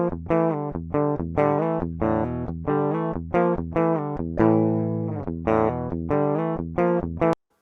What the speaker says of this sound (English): So the Guitar DI signal sounds like this.